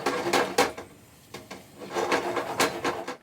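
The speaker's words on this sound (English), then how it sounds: "Continue whisking while you shake the pan, and bring the egg stuck on the edge inward." Runny scrambled egg whisked in a shaking pan for Japanese omurice, heard as close, rhythmic bursts of scraping and rasping strokes with brief pauses between them and no talking.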